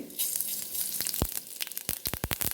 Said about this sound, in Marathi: मोहरी छान तडतडू द्यायची आहे, हे बघू शकता तुम्ही